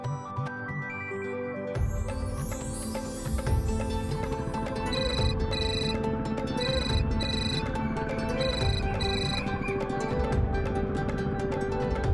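A telephone ringtone sounds during a call in a Marathi TV serial. A short low tone leads into a bright, repeating melodic ring pattern that stays loud and continuous with no talk over it.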